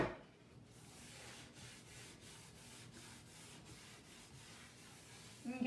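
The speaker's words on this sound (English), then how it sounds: "this is going to be another rag to take that wax off" Cloth rag buffing residual wax off a chalk-painted harvest porch sign, heard as faint, soft back-and-forth rubbing strokes repeating steadily up close.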